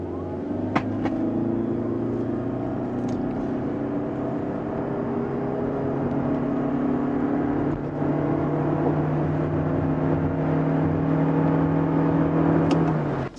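A Toyota Prius AWD hybrid accelerates steadily to 100 km/h, a smooth rising electric whine and engine drone heard from inside the cabin, growing gradually without gear breaks over a soft road rumble.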